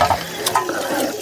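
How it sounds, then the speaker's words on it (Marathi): Water poured out of a container outdoors on a farm to rinse spiced chicken, a short close splash with a few brief gushes and clatter, no talking. "बस सागर दादा पाणी बस झालेलं आहे आपल्याला"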